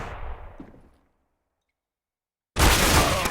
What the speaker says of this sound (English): Big grenade comes in.